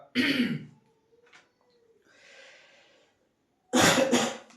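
Two loud, close coughs, one at the start and one at the end, with a quiet pause in between.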